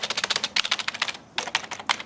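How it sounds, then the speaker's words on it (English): Quick typing on a generic Acer rubber dome keyboard, a close run of soft, muffled key clicks in bursts with a brief pause in the middle. "Oh, the typing feel isn't too bad."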